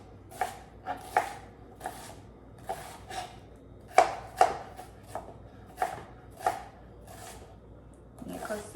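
Knife finely chopping half an onion on a board, about a dozen crisp close chops in loose, irregular groups with short pauses between, no talk.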